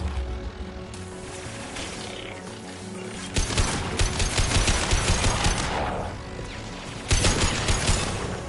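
Sustained automatic gunfire in Mass Effect 2 rattles in dense, rapid bursts that swell and ease, backed by a steady mechanical hum and a brief voice at the start.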